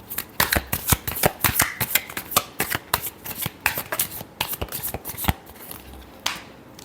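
Tarot cards shuffled by hand in quick, crisp riffling bursts, a close, steady run of sharp papery flutters and taps with no talking.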